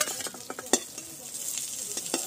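Sliced pointed gourd (potol) frying in oil and being lifted out of the pan: soft sizzling under a series of light scrapes and clicks of a spatula against the pan, close and fairly quiet, no talk.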